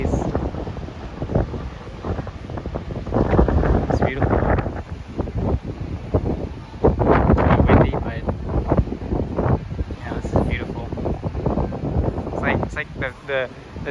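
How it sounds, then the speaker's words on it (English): Strong wind buffets the open deck of the Norwegian Bliss cruise ship on rough Alaskan seas, a loud steady roar and rumble against the microphone throughout, with people talking over it. "Very windy out here."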